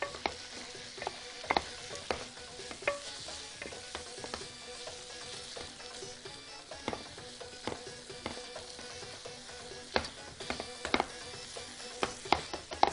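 Canned corned beef heats and breaks apart in a pan, giving a soft steady sizzle with intermittent scraping and stirring clicks from a utensil, fairly quiet and with no voices.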